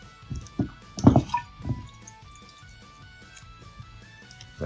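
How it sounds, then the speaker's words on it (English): Brine is poured into jars of homemade sauerkraut to top them up, giving a few close liquid splashes and glugs clustered near the start, then settling into faint trickles and quiet drips. "Now let's top these up."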